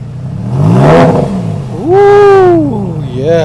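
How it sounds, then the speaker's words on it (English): An older Porsche 911 engine revs up twice while warming up, each blip rising in pitch and falling back to idle, loud and close with no talk. "We'll give you guys a couple revs here as well."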